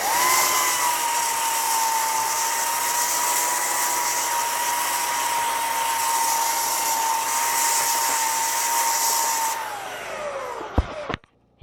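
A belt sander sanding a wood plank: a loud, steady motorized whine runs unbroken for about ten seconds, then winds down in pitch and stops, followed by a couple of clunks.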